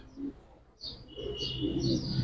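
Giribaz pigeons in a loft cooing and chirping, soft close calls that build into a continuous low coo, with faint background activity and no clear speech.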